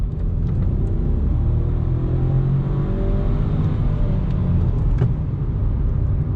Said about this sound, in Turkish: Fark ettiniz mi o şeyi mesela vites atıştaki o esnemeyi?